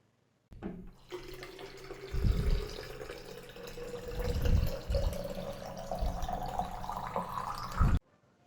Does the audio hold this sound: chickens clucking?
no